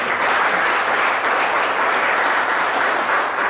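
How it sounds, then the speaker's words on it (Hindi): An audience at a seminar applauds a guest with dense, steady clapping that fills the room evenly for a few seconds, loud and close, with no talking. "सुखीराम जी, स्पेशल तालियां बजाएंगे उनके लिए"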